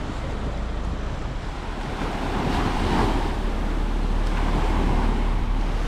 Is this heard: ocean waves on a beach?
yes